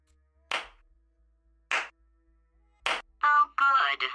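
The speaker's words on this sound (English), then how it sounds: "My slow clap processor made it into this thing." Slow clap sound effect from a Twitch bot: three single hand claps spaced about a second apart, crisp and close in near silence, followed by a short burst of electronic tones.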